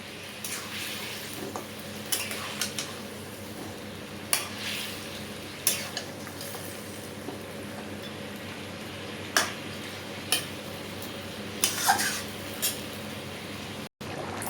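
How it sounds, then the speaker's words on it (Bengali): Marinated chicken pieces stirred in hot spiced oil in a pan, a steady low sizzle running throughout with scattered scrapes and clinks of the spoon against the pan, close by, with no talking. "এখন আমি ম্যারিনেট করা কয়লার মাংসগুলি দিয়ে দিলাম। ভালো করে নেড়ে দেবো।"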